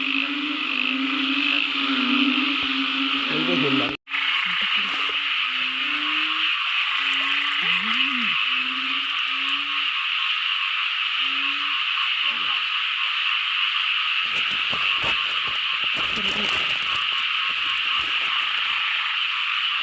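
Loud chorus of frogs and toads croaking from a rice field or paddy, a dense continuous buzzing, trilling din with overlapping calls; a voice talks briefly over it early on.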